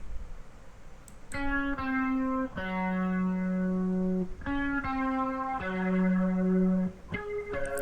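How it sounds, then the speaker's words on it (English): A clean electric guitar plays sustained single notes and chords, each ringing out clearly before the next, with no distortion or effects. "So this is the guitar sound, which is panned to the left."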